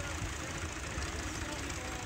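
A tractor engine runs steadily with a low rumbling drone while pulling a stuck vehicle, one of two tractors hauling from behind, with the motor loud and continuous throughout.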